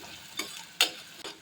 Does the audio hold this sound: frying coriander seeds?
yes